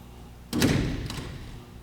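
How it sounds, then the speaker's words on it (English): A door in a jury room is pulled shut with a firm thud, and a short metallic click follows about half a second later as it is locked. Both sounds are close and moderately loud, with no talking. "She locked that door."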